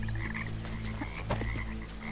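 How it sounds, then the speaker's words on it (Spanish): A frog croaks in the video game Bramble: The Mountain King, a loud close throaty call over a low droning game ambience, with no talking. "Hay una rana."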